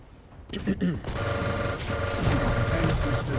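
Rapid gunfire and shotgun shots in a Quake-style arena shooter during a free-for-all tournament grand final, dense bursts of shots mixed into loud game noise, with commentators talking over it.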